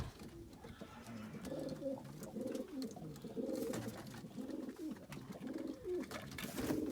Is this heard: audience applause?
no